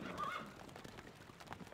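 A horse in the Stronghold Crusader video game gives a short, fairly faint whinny near the start, followed by soft scattered knocks.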